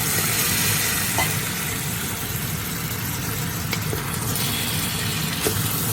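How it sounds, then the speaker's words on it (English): Ginger, potatoes and carrots are stirred in a pot for beef stew, making a steady broadband hiss over a low hum, with a few faint clicks of the utensil against the pot. "Mix everything together until you get that nice aroma."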